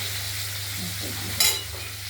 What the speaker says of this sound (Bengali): আরেকটা দিক আমরা ভেজে নেবো মাছটা